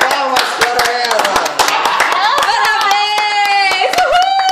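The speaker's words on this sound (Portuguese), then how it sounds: "Palmas para ela." An audience claps in quick, uneven bursts throughout, while loud voices call out and cheer over the applause close by.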